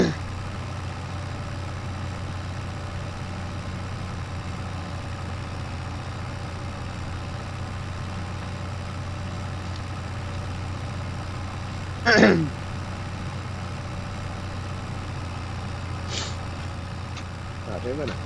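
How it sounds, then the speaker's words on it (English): Small tractor in Farming Simulator 2025 idling steadily at a low, even drone throughout, with a brief louder burst partway through and no speech. "It's quite a nifty little tractor,"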